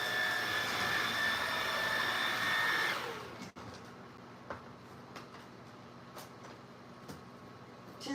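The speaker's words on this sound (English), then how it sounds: "Tis time to vacuum." A vacuum cleaner runs loud and steady, cleaning up mess around guinea pigs, then switches off abruptly, leaving a quiet room with a few faint clicks and knocks.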